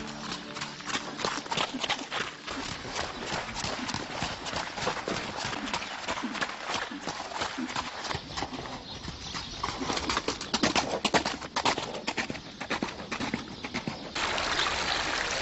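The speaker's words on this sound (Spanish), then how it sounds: "en estas cuadras, debido a cruces genéticos patrocinados por Felipe II, se obtuvo la raza conocida en todo el mundo como caballo español" Horse hooves clip-clop steadily on hard ground at old stables in Córdoba, home of the Spanish horse breed, a continuous close stream of hoof strikes.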